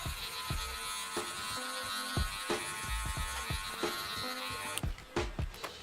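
Electric hair clippers fitted with a number 2 guard cutting hair for a fade. A continuous close buzz carries repeated short strokes, and a rougher burst comes near the end.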